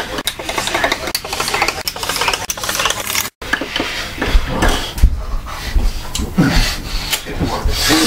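Milk with Milo stirred in a pan, repeated rubbing, scraping strokes in a loose rhythm with a brief cut partway through, close and fairly loud with no clear talk.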